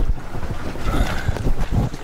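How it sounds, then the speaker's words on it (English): Steady rush of wind and water around a small boat, with low knocks and sloshing throughout and no voices. "I can moor the boat here, momentarily."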